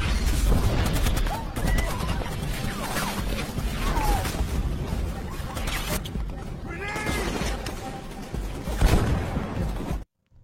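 Sniper gunfire in the war film Tears, sharp shots and crashing impacts within a loud, chaotic battle mix, with voices and animal cries in the background before it cuts to silence.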